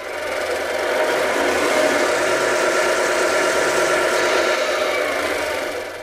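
A Tamiya RC truck's multi-function sound unit plays a simulated diesel truck engine held in second gear of its three-speed gearbox, a loud, steady droning hum that swells in and then tapers off slightly, with no talking.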